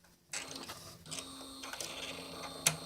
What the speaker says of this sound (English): We're just priming up the cartridges right now.